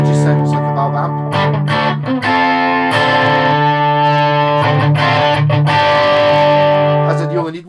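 Electric guitar played through a Victory Sheriff valve amp, loud and continuous with a thick distorted tone, sustained chords and picked notes ringing over about eight seconds.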